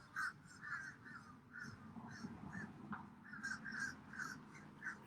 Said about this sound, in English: I got a lot of crows.